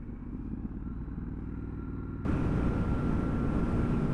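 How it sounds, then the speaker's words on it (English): Triumph Scrambler 1200 XE motorcycle on the road: a steady engine drone with wind rush, then a sudden step up to a louder, fuller roar midway through, as from a gear change and acceleration. "Got a nice smooth gearbox, good gear change."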